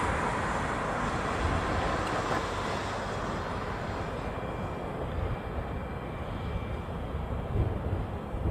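Japan Air airliner arriving from Tokyo heard as a broad, steady jet roar at moderate distance, a continuous rushing noise without talk.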